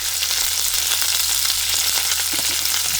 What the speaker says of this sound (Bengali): রসুন আর বেশি জ্বালাবো না, দিয়ে দিলাম লাউ শাক